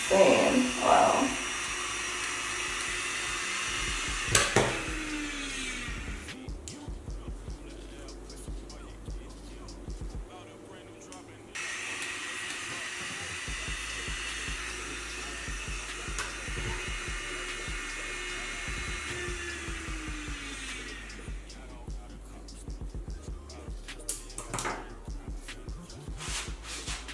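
A 2-in-1 hair straightener and curler runs with a steady, moderate whirring hum that stops and restarts in long stretches, close by, with someone talking at times.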